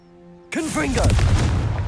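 A Confringo explosion spell goes off in the wizarding game Hogwarts Legacy, a sharp, loud boom that cuts in abruptly and spreads into a dense rumbling, crackling blast lasting over a second.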